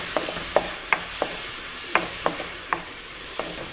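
Onion going into a pan of frying lomo saltado, a constant sizzle with about nine sharp clacks of a utensil stirring against the pan at uneven intervals, close up and without talk.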